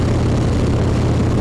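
A Harley-Davidson motorcycle engine running at about 100 kph gives a steady, loud low rumble throughout, with no voices over it.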